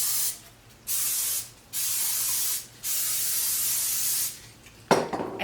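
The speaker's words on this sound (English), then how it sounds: "So we want to just spray our pan." Cooking spray misted into a standard 9x5 loaf pan in a kitchen: four bursts of loud, close hissing, each lasting about a second with short pauses between, followed by a brief clatter as the can is set down.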